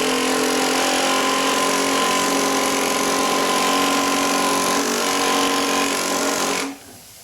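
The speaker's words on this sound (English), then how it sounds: "and then I take the air hammer." Pneumatic air hammer working on a Bobcat 632 skid steer engine during a teardown, a steady loud rapid buzzing rattle that runs continuously for several seconds before cutting off abruptly near the end.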